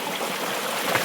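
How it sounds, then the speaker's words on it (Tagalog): Rushing river water gives a loud, close, continuous broadband wash with no pauses or voices. "Maragasa yung tubig."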